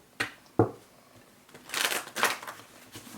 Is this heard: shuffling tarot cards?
yes